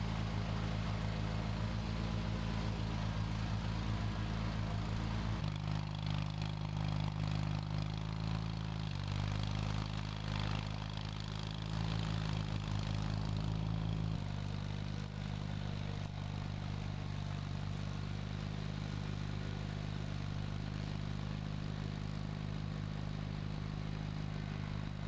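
Bolens QT17 lawn tractor engine running while mowing wet grass, a steady low droning hum with slight shifts in pitch and load, continuous and fairly close with no talking.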